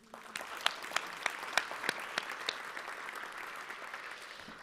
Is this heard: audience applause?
yes